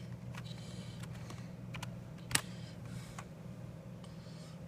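Quiet keystrokes on a NewTek computer keyboard: soft scattered clicks with one sharper tap midway, close but faint over a low room hum.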